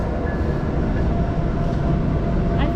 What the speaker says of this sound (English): Here comes a train for all you train people.